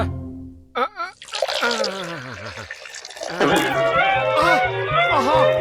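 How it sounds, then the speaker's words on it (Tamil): Cartoon chemicals glug and splash into a jar, a liquid pouring sound mixed under animated character voices and music. "மோட்டு, என் அருமை நண்பா, கெமிக்கல் இப்ப ஜார்ல ஊத்துப்பா."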